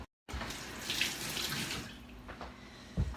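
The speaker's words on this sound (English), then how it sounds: "I gotta rinse my hand off" Water runs from a kitchen tap while a hand is rinsed under it during cauliflower pizza preparation, a steady close splashing hiss with small shifts as the hand moves through the stream.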